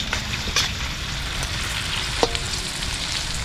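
Food sautéing in a pan gives a steady sizzle and frying crackle, with a few sharp stirring clinks, heard alone and fairly close.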